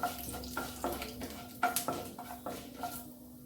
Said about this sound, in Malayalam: ഉഴുന്നൊന്ന് മൂത്ത് വരട്ടെ.